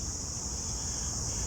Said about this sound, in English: You can hear the cicadas in the trees making their noise.